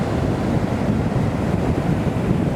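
Ocean waves on the Atlantic beach at Marineland, Florida, south of St. Augustine, at night under a full moon: a steady, dense wash of surf with continuous wind rumble across the microphone, no voices.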